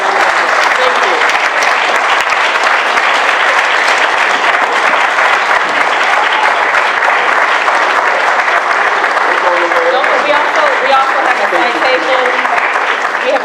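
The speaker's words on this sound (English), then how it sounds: "please give him a round of applause" A crowd at an award ceremony honoring a musician claps loudly and continuously, a thick sustained applause with voices and cheers mixed in throughout.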